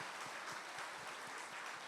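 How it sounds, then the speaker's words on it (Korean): A church congregation at a Sunday worship service applauding the children, steady even clapping at a moderate distance for a couple of seconds with no voices. "우리 기쁜 마음으로 우리 축복하는 마음으로 다시 한번 힘차게 박수하겠습니다"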